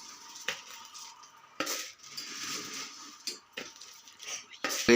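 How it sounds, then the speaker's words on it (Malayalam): Puffed rice (pori) poured into a vessel, giving a few light rattling, clinking bursts against the container between quieter stretches, with a voice heard talking. "പാത്രത്തിനകത്തേക്ക് നമ്മൾ പൊരിയിട്ട് കൊടുക്കുകയാണ്"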